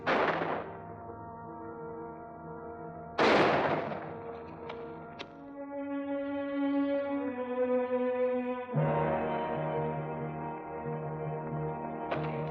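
Gunfire in a 1955 Western television drama: a few sharp, loud shots spread far apart, ringing out between stretches of sustained orchestral music.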